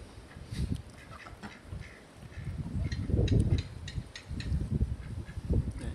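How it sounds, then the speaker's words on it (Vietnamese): Wild ducks quacking while begging for food in autumn Japan, a cluster of low, raspy quacks in irregular bursts, fairly close and loud, with some faint higher calls. "có vịt trời vịt trời nó lại đòi ăn"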